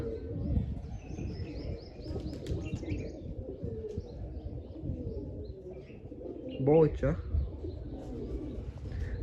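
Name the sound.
pigeons cooing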